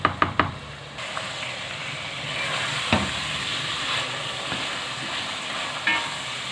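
Steady frying sizzle of bitter gourd in a pan, with a few light clinks and stirring knocks near the start and scattered through.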